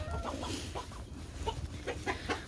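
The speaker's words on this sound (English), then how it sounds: "this buff Warpington hen has been a little broody" A broody Buff Orpington hen clucks in a coop on a snowy day, giving a string of short, close clucks and murmurs at an uneven rhythm.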